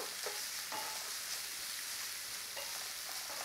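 Diced onion sizzles softly in a pan over a low flame, a faint steady frying hiss broken by a few light scrapes of stirring.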